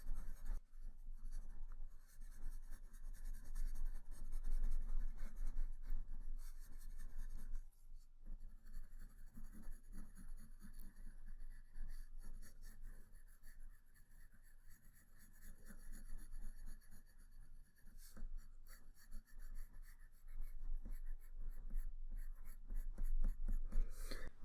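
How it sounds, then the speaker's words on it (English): A pencil lightly shades a still life drawing on paper in layers: a steady, soft, close scratching that goes on without pause, with brief changes in stroke and no voices. "And we do that by drawing very lightly and in layers."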